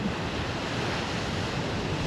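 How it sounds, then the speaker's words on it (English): Steady wind rushes over the microphone on a beach near low tide, with broad surf-like noise, continuous and fairly loud, no voices. "It's quite windy"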